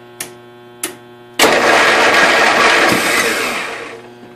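A 1992 Yard King lawn tractor engine cranks over, two sharp starter clicks and then a loud, fast continuous cranking whir for about three seconds that slowly fades, close up with no talk.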